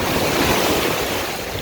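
Big ocean waves breaking and surging at Far Rockaway Beach, a loud, continuous wash of surf with wind buffeting the microphone throughout.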